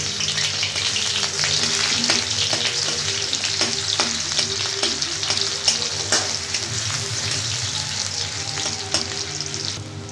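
Dried chili and chopped onion fry in mustard oil in a wok, giving a steady close sizzle with occasional stirring scrapes and clicks throughout.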